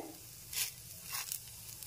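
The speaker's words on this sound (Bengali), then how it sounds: "বাকি পাটিসাপটাগুলো আমি একইভাবে ভেজে নেব। আর প্রত্যেকবারই ভেজে নেওয়ার সময় একটু ঘি ব্রাশ করে নিতে হবে।" Patishapta pitha fries in ghee in a pan with a faint, close, steady sizzle, broken by a couple of soft scraping stirs.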